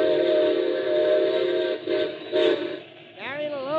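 A train whistle blows a sustained chord of several tones, dipping and swelling, then bends in pitch near the end, loud and fairly close.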